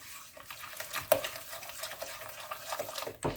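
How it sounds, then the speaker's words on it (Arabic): Eggs and sugar beaten by hand with a spatula in a bowl for a Turkish mole cake, a steady close scraping and stirring with a sharper clack near the middle, no voices. "واحنا بنضرب البيض مع السكر"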